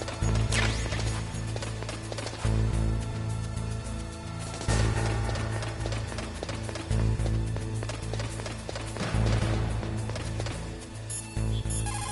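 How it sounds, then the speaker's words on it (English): Footsteps echo across a metal floor in Metal Gear Solid Integral Edition, a steady run of clanking steps under constant background game music and ambience. "that floor is designed so that your footsteps echo"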